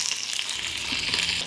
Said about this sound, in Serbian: Na zagrejano ulje spuštam piletinu i pržit ću je po 3 minuta sa obe strane.